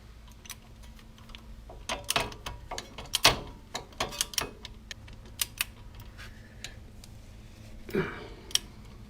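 A ratchet or torque wrench tightening four wheel hub bolts on a Ford Crown Vic to about 85 foot-pounds, giving sharp, irregular clicks up close against a quiet background.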